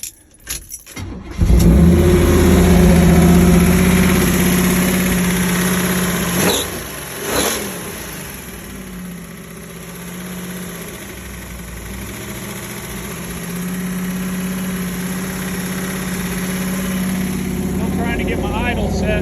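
A 1979 Chevy C10 Cheyenne with an SBC 327 engine and TH350 transmission starts after a few clicks and cranking, then settles into a loud, steady, close idle with a short blip of throttle partway through.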